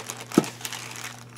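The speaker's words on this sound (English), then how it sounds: "It comes in a plastic bag." A plastic bag crinkles close by as a mailed package is opened, with one sharp crunch early on and then softer rustling that fades out.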